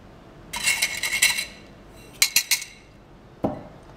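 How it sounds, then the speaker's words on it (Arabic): Eggs cracked against a bowl edge for semolina basbousa: a burst of clinking taps, then three sharp knocks and one final crack, close and distinct with no talk. "نكسر البيض"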